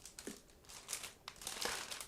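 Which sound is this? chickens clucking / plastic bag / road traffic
plastic bag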